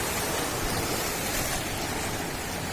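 Sea waves breaking at the seaside, a continuous loud wash of surf with no pauses and no voices.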